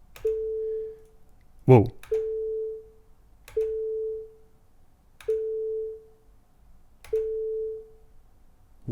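A 440 Hz test tone from audio software sounds in five even, steady bursts of about a second each, separated by short pauses. A brief startled exclamation cuts in between the first two bursts.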